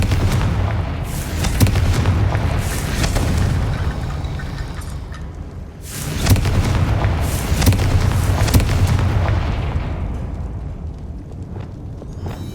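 Confringo explosive spell cast in the video game Hogwarts Legacy: deep booming blasts with rumbling low-end tails, a first series and then a second after a short lull. Loud and close with no talking.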